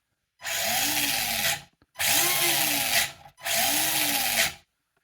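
Three separate bursts of a high whining brushed electric motor braking on an RC car with a Hobbywing QuicRun WP 1080 G2 speed controller, each about a second long, pitch rising then dropping, separated by short silences.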